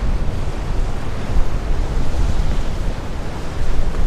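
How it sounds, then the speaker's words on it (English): Waves smashing on rocks along a windy southwestern coast of Western Australia, a continuous loud roar of surf with rising and falling surges, buffeted by wind noise on the microphone. "Waves smashing on the rocks."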